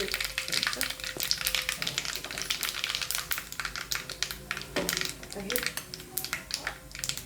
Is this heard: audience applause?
no